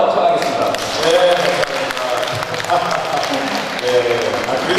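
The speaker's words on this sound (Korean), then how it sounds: "제가 감히 박수 한번 청하겠습니다." Audience applause at a political campaign event, steady clapping from a gathered crowd lasting several seconds, moderately loud, with faint voices mixed in underneath.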